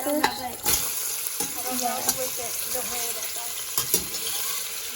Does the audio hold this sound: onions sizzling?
yes